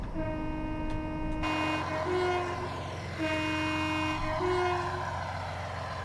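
Class 166 diesel unit horn in Train Simulator 2021, sounded in several loud two-tone blasts over the rumbling engine and cab ambience, close and clear.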